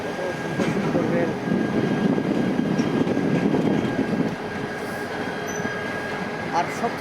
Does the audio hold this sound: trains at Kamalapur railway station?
yes